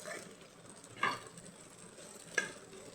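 A potato gravy is stirred in a pan with two distinct spatula scrapes against a soft, low bubbling sizzle, close by and quiet, with no speech.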